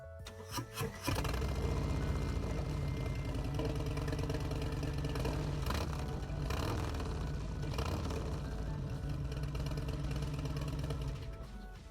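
A 2021 Harley-Davidson Street Glide touring motorcycle starts with a short crank and catches, then settles into a loud, close, steady lumpy idle with a throbbing rhythm.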